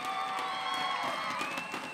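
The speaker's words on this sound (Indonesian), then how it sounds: "Jadi tepuk tangan yang meriah sekali lagi." Audience at a children's singing contest grand final applauds and cheers for a young singer, a steady wash of clapping and crowd noise filling the room.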